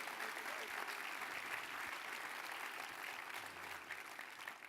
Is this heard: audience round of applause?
yes